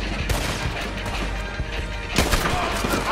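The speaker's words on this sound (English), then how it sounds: "He's shooting!" Gunfire from a man shooting down from a tower in an action video game set on Guarma, heard as scattered sharp shots and crashes over a busy battle din, with a heavier burst near the end.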